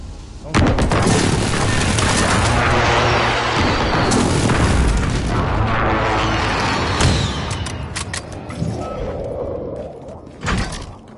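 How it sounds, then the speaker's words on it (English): Friendly precision airstrike explosions in a video game pound as a dense, loud run of booming blasts and crackling impacts for several seconds, thinning to scattered thuds and a final boom at the end. "Be advised, friendly precision airstrike inbound."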